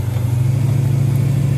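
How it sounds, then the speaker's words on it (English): Road traffic rumbles by on a rainy day, a steady low engine drone of cars passing close and fairly loud with no talk. "A little bit of traffic."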